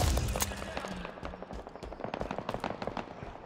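Rapid gunfire in a Halo Infinite multiplayer match: close, sharp bursts of shots in a fast, irregular rhythm that keeps going throughout, loud and dense, with no talking.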